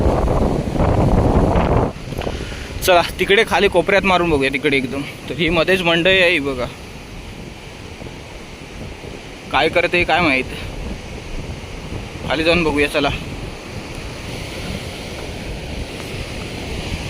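Strong monsoon wind and crashing waves on a rough seashore, a steady roaring wash throughout with someone talking over it in several bursts.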